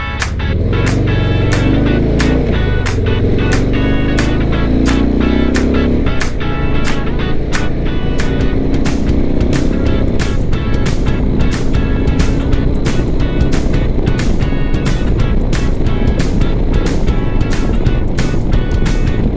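Motorcycle cruising on a highway heading west, with a steady loud engine drone and heavy wind rush throughout, rising slightly in pitch early on, and rapid rhythmic buffeting clicks.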